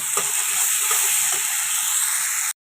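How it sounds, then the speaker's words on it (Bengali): Loud, steady sizzling and hissing of tomato, peas and spices frying in a hot pan, cutting off abruptly at the end. "এখন দিয়ে দিয়েছি টমেটো আর মটরশুঁটি দিয়ে এখন ভালো করে মশলাটা কষিয়ে নিচ্ছি"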